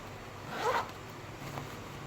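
A quick zip as a new pencil case is opened, one short rasping pull near the mic in a quiet room, followed by a faint second scrape.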